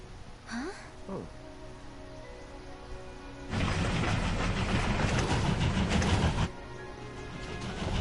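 A train in the video game World of Final Fantasy Maxima rumbles loudly as a broad, steady roar for about three seconds, framed by quieter ambience and a couple of brief gliding tones before it.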